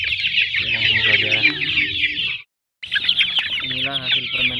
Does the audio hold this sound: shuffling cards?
no